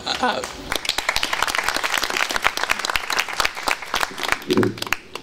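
A large audience claps for about five seconds at a talk on Louis Armstrong, the dense crackle of many hands rising to a steady roar, with a voice briefly heard near the end.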